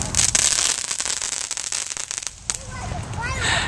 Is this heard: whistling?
no